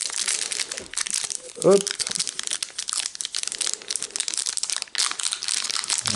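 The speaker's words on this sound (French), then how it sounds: "on va ouvrir le premier booster" Yu-Gi-Oh booster pack wrapper crinkling and tearing open, dense plastic rustle throughout with a brief voice interjection in the middle.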